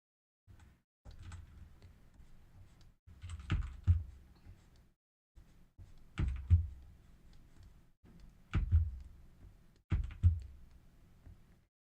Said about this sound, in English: my keyboard is making such a loud banging sound every time I control Z